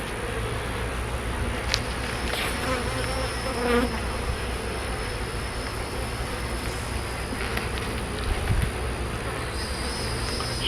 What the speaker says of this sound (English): there are just so many bees on here